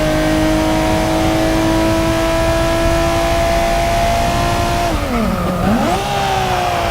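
A 2002 Nissan R34 GT-R engine races in the Forza Motorsport video game, holding a loud, steady high-rev whine before the revs drop sharply and then climb again near the end, with no talk.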